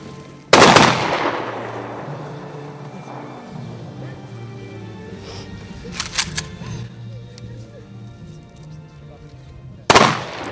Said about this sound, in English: Soldiers deliver a 21-gun salute as the bodies are lowered into the ground.